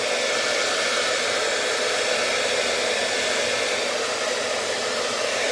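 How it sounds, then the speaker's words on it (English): A hair dryer blows with a steady, loud whooshing roar that holds constant throughout, without any talking. "you kind of want to have the hair dryer at a controlling angle"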